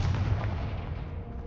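A fiery Confringo spell blast in the Hogwarts Legacy video game, heard as a loud, sustained booming rumble with heavy low-end weight that slowly fades over about a second and a half.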